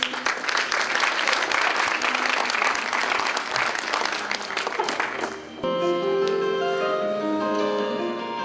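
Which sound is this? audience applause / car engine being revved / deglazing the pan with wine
audience applause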